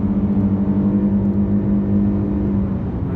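A Lexus GS 450h hybrid accelerating on a motorway, a steady close drone of engine and road noise with a smooth slight rise in pitch, no talking.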